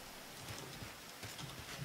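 Rain in the video game Mafia 3 falls as a soft, continuous hiss with faint patters, quiet and steady throughout, with no speech.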